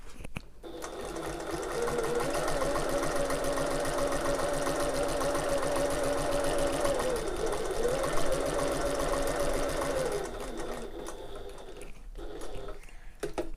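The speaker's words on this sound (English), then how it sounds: "I can pivot and sew back down to where we were" A sewing machine stitches a tote bag, whirring continuously and close for about ten seconds as the seam pivots and runs back, then stops and leaves a quieter pause.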